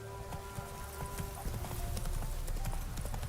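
Roach, Geralt's horse in the Witcher 3 video game, gallops in quick rhythmic hoofbeats, loud and close, with a faint tonal hum of game ambience underneath.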